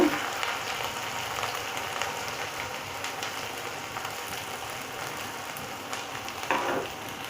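Onions sizzle and crackle in a hot pan for a dhaba-style whole masoor dish, a steady dense frying hiss with small pops throughout and no talk.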